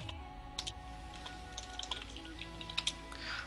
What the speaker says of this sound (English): That typing is real.